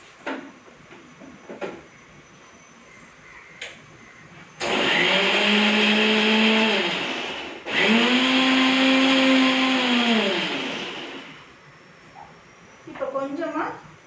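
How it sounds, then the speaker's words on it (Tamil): Mixer grinder blending onion chutney in a jar, two loud sustained whirring runs with a short pause between, motor pitch dropping at each stop, with quieter kitchen sounds before and after. "இதை மிக்சியில் போட்டு அரைச்சிக்கிறேங்க"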